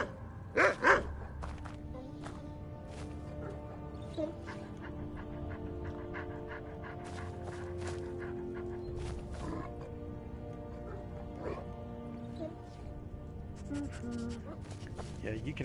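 Armored war dogs in a video game, barking and snarling in sharp bursts early on, followed by low growls and panting over a steady game soundtrack hum.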